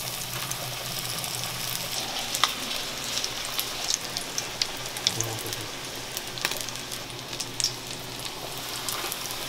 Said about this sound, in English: we're gonna make some patties and fry them